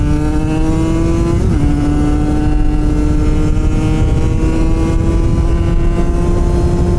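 A KTM 150cc two-stroke supermoto engine revs hard and steadily, close and loud, its high buzzing tone rising and falling slightly as it pulls under full throttle for several seconds, with no talking.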